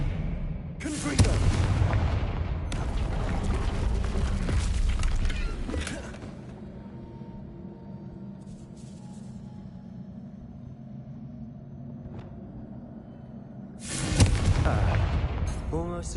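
Confringo spell blasts go off in Hogwarts Legacy on PS5. Two loud, booming bursts of several seconds each frame a quieter rumbling gap, with voices spoken in the game.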